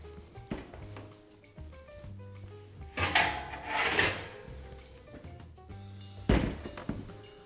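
After baking barramundi, an oven door opens with a clunk and a drawn-out creaking swing, followed by a sharper knock near the end, close and moderately loud, over a steady background hum with no talk.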